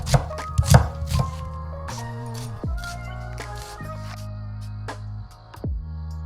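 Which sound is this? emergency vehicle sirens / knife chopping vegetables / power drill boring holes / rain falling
knife chopping vegetables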